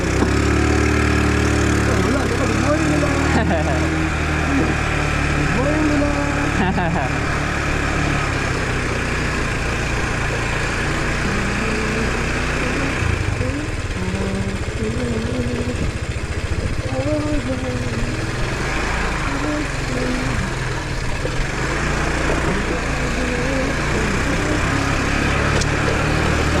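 A motorcycle engine idles steadily nearby with a low, throbbing rumble for the whole stretch, while people talk over it.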